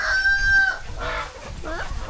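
Roosters let loose on a home farm crow and cluck close by: one drawn-out crow first, then shorter clucking calls, over faint farmyard background.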